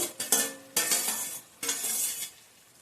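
Tomatoes go into a simmering mutton curry in a pot and are stirred, with three sharp scraping bursts of the spoon against the pot over a bubbling hiss, close and fairly loud.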